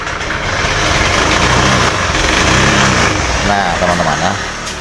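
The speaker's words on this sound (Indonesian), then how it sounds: "motornya hidup tapi mati lagi" A motorcycle engine on a weak battery turns over on the electric starter, catches and runs roughly for a few seconds, then dies away, with someone talking over the loud, close engine noise.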